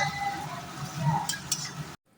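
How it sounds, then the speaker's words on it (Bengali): Finely sliced onions frying in oil in a pan, a close, steady sizzle with stirring scrapes and a couple of brief sharper hisses, cut off abruptly near the end. "তো এখানে দেখো পেঁয়াজটা কিন্তু লাল করে ভাজতে হবে"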